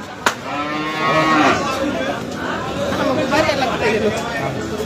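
Cattle moo loudly and repeatedly over a busy crowd murmur, with a sharp knock near the start, at a crowded Bangladeshi cattle market (haat).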